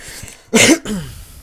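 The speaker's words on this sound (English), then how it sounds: "Sorry about the cough." A single sharp, throaty cough bursts out close to the mic, followed by a brief rasping exhale.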